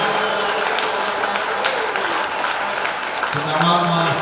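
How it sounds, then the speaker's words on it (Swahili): A church congregation applauding, dense steady clapping that runs continuously under a loud voice, with a sung or spoken tone rising near the end. "mshangilie Yesu kwa makofi mazuri"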